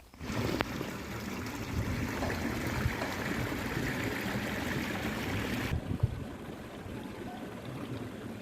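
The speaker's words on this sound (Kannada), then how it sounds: "ನೀರು ಬಹಳ ಬರ್ತಿದೆ" Floodwater runs through a flooded residential layout in Jagalur, Karnataka after rain, a steady close rushing and gurgling flow with a brief knock, the texture thinning abruptly near the end.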